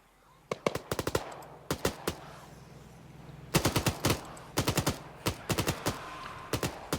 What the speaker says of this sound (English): He's just firing wildly.